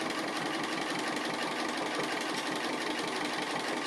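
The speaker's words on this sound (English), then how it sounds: "I'm just stitching around as if I'm appliquing" A sewing machine stitches an appliqué outline around a fabric dog's eye, running at a steady, fast, even buzz with a rhythmic mechanical patter, close and loud throughout, with no talking.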